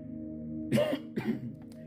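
Two rough coughs close by during a church service, a short pause between them, over a low steady hum in a quiet room.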